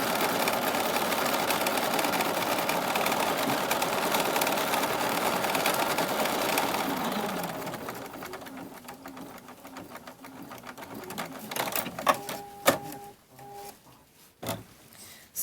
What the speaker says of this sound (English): the machine will go around twice to ensure that it is secured to the stabilizer